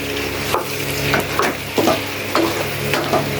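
Chicken or goat liver, 1 kg, frying in a well-roasted spice masala as a spoon stirs it through, with steady loud sizzling broken by repeated scraping strokes against the pan.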